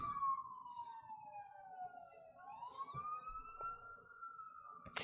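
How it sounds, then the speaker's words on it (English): Emergency sirens wail outside, a single rising and falling tone that sweeps down then climbs again, moderately distant and fairly faint, with no talk over it. "Damn, there's a lot of sirens on my end."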